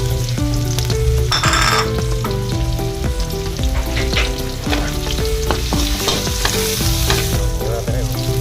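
Garlic, onion and bell pepper sauté in a pan for seafood pansit canton, giving a loud, steady sizzle with scraping stirs throughout and music playing beneath.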